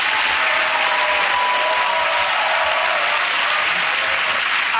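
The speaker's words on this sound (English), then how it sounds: "Okay, again, that round of applause with Ed Hugh" Studio audience applause on a comedy panel show, a loud, sustained wash of clapping from a full crowd, continuous and even for the whole stretch.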